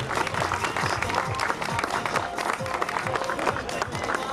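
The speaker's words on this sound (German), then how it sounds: "Axel Schulte nicht zu vergessen, und ich bitte herzlichen Applaus für diese Leute." Audience applause at the Oedter Niersspektakel, an outdoor town event, with dense steady clapping and crowd noise at a fairly low level that runs throughout.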